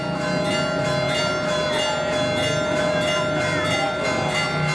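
Church bells ring out in the evening in Sorrento, sustained overlapping tones with a steady rhythmic pulse of strikes, heard from a distance over general ambient noise.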